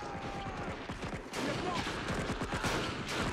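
Sustained MG42 machine gun fire rattles in the World War II strategy game Men of War: Assault Squad 2, rapid bursts run nearly nonstop over a dense battlefield din, loud and close, with other explosions and combat noise mixed in.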